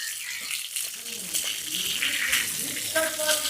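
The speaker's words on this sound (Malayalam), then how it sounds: "അത് വെള്ളം നനച്ചു കൊടുക്കുകയാണ്" Water splashes over natural stone paving being wetted down to settle it during landscaping work, a steady, hissing wash of moderate loudness that runs throughout with faint background activity.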